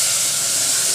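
A spice paste hits a hot pan for Nashik misal, producing a brief, loud and steady steamy hiss.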